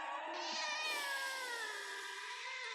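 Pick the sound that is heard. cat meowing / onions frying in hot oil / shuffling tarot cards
cat meowing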